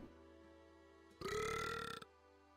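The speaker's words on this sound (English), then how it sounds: "Following a resounding burp" A single resounding burp from a character in the video game AFK Journey, loud and drawn out for about a second with a wavering tone, set against a quiet, steady game background.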